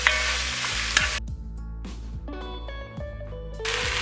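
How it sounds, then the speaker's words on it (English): Minced garlic and onions cook in a pot with a loud, close sizzle while a spoon stirs and scrapes in a few quick strokes; the frying hiss drops away briefly in the middle, then rises again. "We're just going to go ahead and give this a cheeky little stir."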